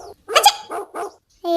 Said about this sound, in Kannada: ಇದು ಮತ್ತಷ್ಟು ಬೊಗಳತೈತವ